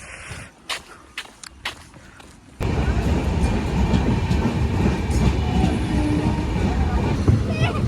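A crowded moving passenger train in Assam, bound for Nalbari, starts with scattered knocks and thuds, then a loud steady rumble and rattle of carriages on the rails, with voices faintly under the noise.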